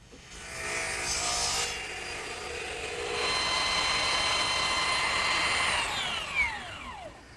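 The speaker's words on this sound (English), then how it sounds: "Now it's just a matter of taking a rasp and fine-tuning each piece until it fits" A rasp files wooden ladder-back chair turnings to fit snugly in a mortise, giving steady close rasping strokes in bursts, with a squealing sweep at the end.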